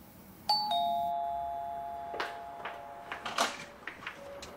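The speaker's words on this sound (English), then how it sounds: "Why are you ringing the doorbell?" A doorbell rings once with a clear two-tone chime nearby, followed by faint knocking and shuffling sounds.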